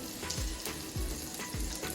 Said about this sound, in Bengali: ধনিয়া পাতা দিয়ে ভাজা হয়েছে